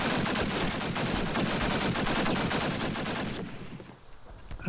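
Dense, sustained automatic gunfire in a Call of Duty: United Offensive match, loud rapid volleys for several seconds before thinning out, followed by a sudden rise at the very end.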